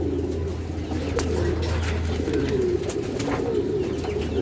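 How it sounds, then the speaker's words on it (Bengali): A breeding pair of male and female pigeons coo in low, throaty, continuous rolls close by, with occasional soft clicks and rustles over a steady hum. "এই যে দর্শক এটা হচ্ছে মাদি কবুতরটা, এটা নর কবুতরটা পিওর জোড়া"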